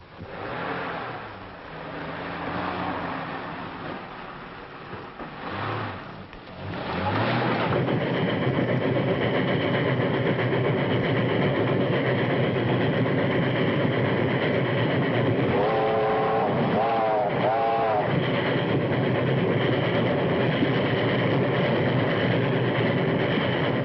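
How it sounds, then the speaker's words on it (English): A train rumbles steadily and loudly, a continuous mechanical roar that swells after a quieter start, with a brief wavering tone partway through. "That's the train."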